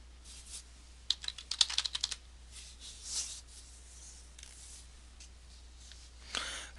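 Computer keyboard typing during a Windows lab session, with quiet clusters of clicking keystrokes in short bursts and a steady low hum behind them, with no one talking.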